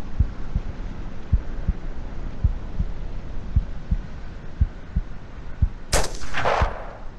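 A rifle shot at a deer in the video game Hunting Simulator, one sharp loud crack with a brief ringing tail near the end, after a steady rhythmic heartbeat-like thumping over a low hum.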